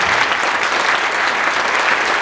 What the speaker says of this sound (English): So please give a round of applause for our panelists today.